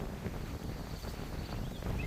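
Wind blows beside a lake, buffeting the microphone with a steady, dense rumble that fills the whole moment, with no voices.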